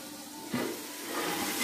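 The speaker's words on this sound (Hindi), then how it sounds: "माशाल्लाह तड़का लग गया अच्छे से इसके अंदर" Hot oil tempering (tadka) for kadhi pakoda sizzles steadily, a dense crackling hiss that swells slightly as the spices hit the pan.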